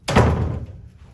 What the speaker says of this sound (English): Just a minute, I need to close the door.